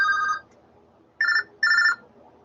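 A telephone rings in three clear electronic bursts, one long and then two shorter ones close together, loud and alone with no talk over it.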